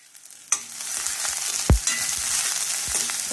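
Onion frying in oil with mustard seeds and green chillies in a pan, a steady sizzle with a few scraping stirs and a spatula knock, close and alone.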